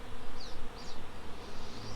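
A dense, continuous buzzing of many honey bees, close and steady, with individual bees droning past over the constant hum.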